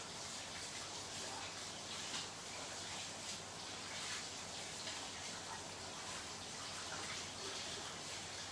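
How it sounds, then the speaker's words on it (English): Running tap water splashing over hands being washed at a kitchen sink, a steady, even rush of water that continues throughout without pauses. "I'll wash my hands"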